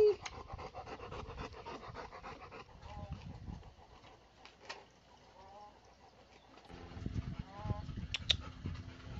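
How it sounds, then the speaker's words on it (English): A dog pants quickly and steadily up close, with faint voices and a few soft whimpers in the background. "We have a guest appearance of Augie Doggy today"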